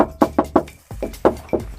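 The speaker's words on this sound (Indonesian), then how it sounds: "Kita ketok-ketok sampai ke samping tuh" Knuckles rapping on the metal body panels of a 1996 Suzuki Sidekick 4x4: a series of about seven sharp, close knocks in quick uneven clusters with hollow resonance, no talking.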